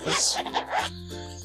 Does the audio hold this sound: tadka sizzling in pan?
no